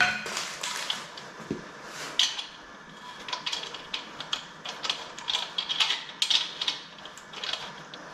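Metallic clicks, ratcheting and small clattering taps while a bolt is fitted on a VW AAB 2.4 diesel engine during a rebuild, close-up, irregular and busy with no talking.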